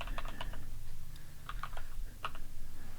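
Someone types on a computer keyboard in short bursts of quick key clicks with brief pauses between them. The clicks are close and moderately quiet.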